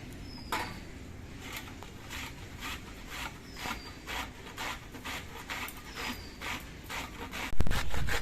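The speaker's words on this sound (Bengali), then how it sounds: "এবার আমি একটা ঘষনি নিয়েছি এই ঘষনিটা দিয়ে পটলগুলো ঘষে নেব" Small pointed gourds (potol) scraped with a handheld kitchen scraper, a steady run of quick, rhythmic rasping strokes close by, ending with a louder knock.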